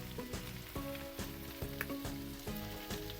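Beef browning in a pan for pancit habhab sizzles steadily up close, with repeated clanks and scrapes of a spatula stirring at a regular rhythm, and nobody speaks.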